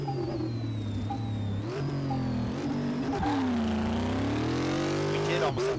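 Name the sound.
hearse engine purring in Car Mechanic Simulator 2018 video game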